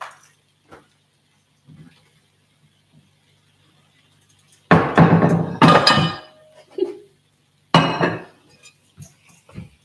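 Plates and dishes clinking in a home kitchen while brunch gnocchi is cooked: a few sharp ceramic clatters and knocks, close and loud, separated by near silence, with a faint voice.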